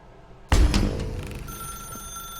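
A telephone ringing in the video game The Stanley Parable, a sudden loud bell burst followed by a decaying ring with a lingering electronic tone.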